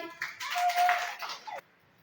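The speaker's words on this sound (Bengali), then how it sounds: "ভেরি গুড, হাততালি দাও সবাই।" Schoolchildren clap their hands together in a classroom, a short burst of close, dense patter lasting about a second and a half before cutting off into quiet.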